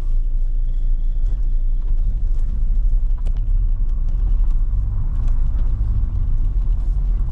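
A car cruises along a seaside corniche promenade by the beach at El Hammam, Beni Ouneche, its engine giving a steady, close low rumble with road noise throughout and no speech.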